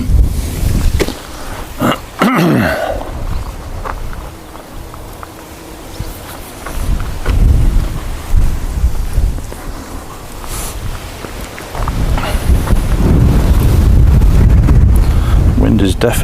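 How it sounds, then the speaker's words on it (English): Strong wind gusts at an airport buffet the microphone, giving loud, rumbling low-end blasts that rise and fall for the whole stretch and build to a sustained roar near the end. "Wind is definitely picking up"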